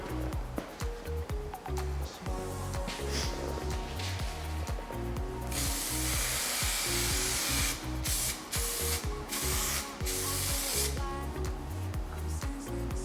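A spray glue aerosol can hisses in several close bursts over a steady mechanical rattle and clatter.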